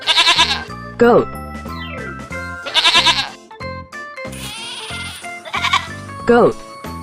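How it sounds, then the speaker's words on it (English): A goat bleats repeatedly in short, shaky, nasal bursts, several separate calls spread across the span, close and moderately loud with quieter gaps between. "Goat."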